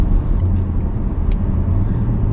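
A BMW X5 M Sport's inline-six engine and exhaust rumble steadily and loudly from close by, a deep continuous drone with a couple of faint clicks.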